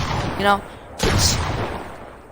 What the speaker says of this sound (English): You're literally shooting through the cone.